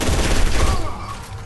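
Rapid bursts of gunfire from a favoured weapon in the shooter game F.E.A.R. 2, loud and dense across the whole moment with booming low end, no voices over it.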